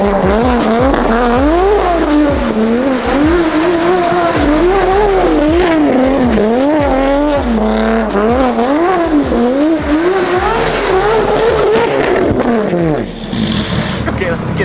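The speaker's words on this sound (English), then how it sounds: "This car is so loud." A 900HP BMW M4 revs hard on snow, its loud engine climbing and falling in repeated surges as it accelerates and the tires spin, with a brief easing near the end.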